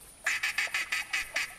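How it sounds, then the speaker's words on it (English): Ducks in the hunting game theHunter Classic give a run of about seven loud, evenly spaced quacks, close and clear with no talk over them. "Here come the ducks."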